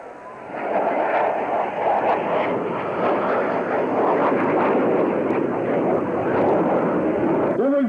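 A Blue Angels jet rolls down the runway on takeoff, a loud sustained roar of jet engine noise that swells in and holds steady throughout, broad and rumbling, with no speech over it.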